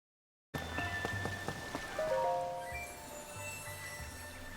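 Steady rain falling in Zelda: Tears of the Kingdom, a soft continuous patter after a brief silence, with faint chiming game tones and low rhythmic thuds mixed beneath.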